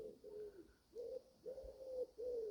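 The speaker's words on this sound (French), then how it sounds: "Le chant des oiseaux" Soft, distant bird calls repeat outdoors, a pigeon or dove giving a series of low, rounded coos in evenly spaced phrases with brief pauses between them.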